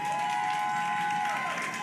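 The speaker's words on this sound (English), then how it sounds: "Y'all clap it up one more time." An audience at a community outreach session applauds steadily for about two seconds, a dense, even wash of claps with a faint sustained tone running underneath.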